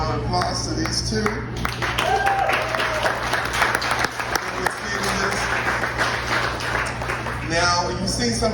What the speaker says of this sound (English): give a round of applause to these two